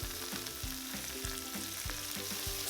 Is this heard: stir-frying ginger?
yes